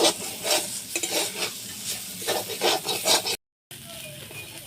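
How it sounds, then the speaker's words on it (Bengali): A spoon stirring masoor lentil paste as it fries in a pan, with repeated rhythmic scraping strokes over a soft sizzle, broken by a brief silent gap. "নেড়ে চেড়ে নেব। ভালো করে কষিয়ে নেব।"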